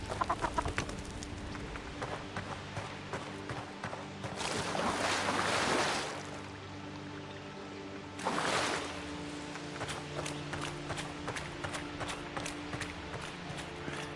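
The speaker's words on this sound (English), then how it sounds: "You chase chickens." Chickens clucking in the video game Avowed, faint scattered calls over a quiet ambient bed, with two louder rustling bursts in between.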